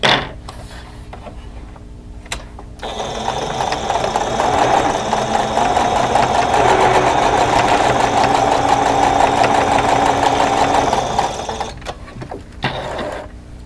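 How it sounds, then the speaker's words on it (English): A sewing machine runs steadily for about nine seconds, stitching close to the raw edge of a fabric face mask with a pocket, with short pauses and clicks before and after the long continuous run. "I'm going to stitch close to the raw edge and do the same thing"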